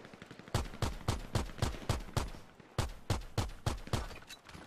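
Rapid, sharp gunshots in an online PvP video game, two quick volleys of evenly spaced loud shots with a short pause between them, with no voices over them.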